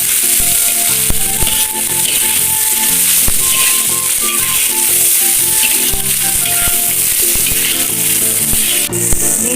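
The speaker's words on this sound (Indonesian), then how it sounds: "Lanjut kita masukkan cuminya Bunda" Squid pieces, cleaned, cut and boiled, fry in a pan of Minang-style sambal tauco, giving a loud, steady sizzle with scattered stirring clatter throughout.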